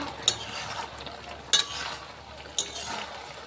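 Mutton curry with a little water cooking down in a pan, a soft steady simmering hiss under three sharp clinks of a spoon against the pot.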